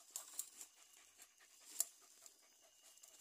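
Hunting dogs pant in the woods at night, quick soft breaths repeating close by with faint rustling and a sharper brief click partway through; no one speaks.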